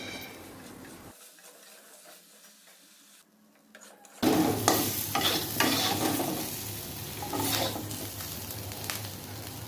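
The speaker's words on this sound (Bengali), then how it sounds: "ধোয়ার পর এবার কড়াতে দিয়ে দেবো।" After a quiet stretch, washed chunks of elephant foot yam drop into hot oil in a kadai and burst into a loud, steady close sizzle with stirring scrapes.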